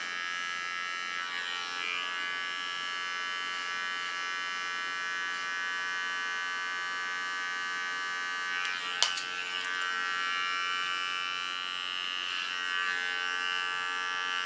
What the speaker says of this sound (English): With a small clipper, I clean the contour line.